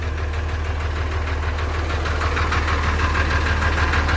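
A diesel tractor engine idles with a steady low chugging rumble and rhythmic knocking, close and continuous with no talk.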